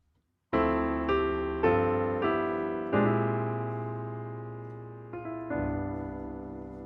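Solo piano plays a short 2-5-1 chord progression in gospel voicings, each chord struck clearly and left to ring and decay, ending on a sustained final chord.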